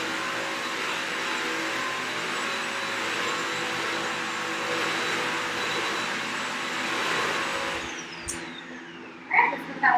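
A vacuum cleaner sucking up excess water during house cleaning, a steady loud whooshing roar that runs unbroken before cutting off near the end, followed by a few knocks.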